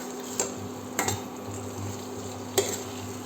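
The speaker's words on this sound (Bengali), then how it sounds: "এই অ্যাড করে দেওয়ার পরে মশলাগুলো দিয়ে আলুগুলোকেও সুন্দর করে কষিয়ে নেব।" Potatoes sautéed with spices in oil for a fish curry of rita fish, giving a steady low sizzle with a few sharp clinks of a spatula against the pan, close and fairly quiet.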